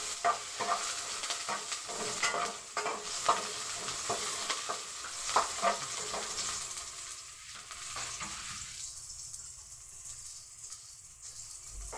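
Onions sizzling in a hot pan while being stirred: steady close frying hiss with repeated scraping and clatter of the utensil, easing into a quieter sizzle near the end, with no talking.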